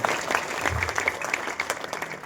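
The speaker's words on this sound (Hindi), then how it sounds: "तो मैं इनके लिए एक बार जोरदार ताली बच्चों से स्वागत करूँ।" Children in a youth and skills-development programme gathering in Purnia applaud to welcome a guest, with scattered, uneven claps at moderate loudness and a few voices in the background.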